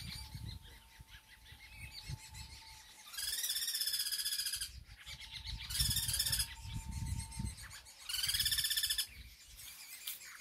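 A baby bird that has fallen and been returned to its nest calls from close by in loud, shrill bursts of repeated chirps, separated by quieter stretches of rustling and faint background chatter.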